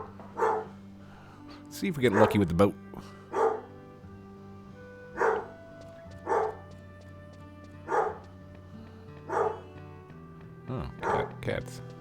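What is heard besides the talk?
dog barking outside the house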